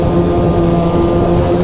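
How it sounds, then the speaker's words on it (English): Snowmobile engine idling steadily during a trail ride at a lake in cold weather: a loud, close, continuous low engine drone with a constant tone and no voices. "This sled's still running awesome."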